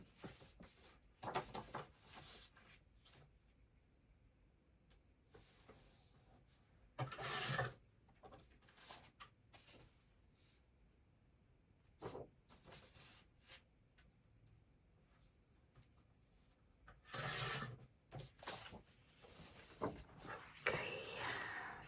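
Designer paper for a card folio being trimmed in a quiet room, with a few short bursts of cutting and rasping scattered among soft rustles and handling, near and close to the surface.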